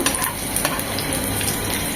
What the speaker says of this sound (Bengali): রসুন কুচিটা একদম ভাজা ভাজা লাল লাল হবে